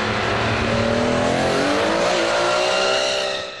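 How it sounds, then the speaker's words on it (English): Nissan Skyline drifting around a track, with engine revving and long rising tyre squeal that holds steady and loud for a few seconds before fading slightly. "Alright, we'll do some more drifting."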